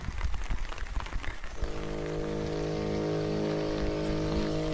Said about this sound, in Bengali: বৃষ্টি কিন্তু মোটামুটি ভালোই জোরে পড়ছে এখন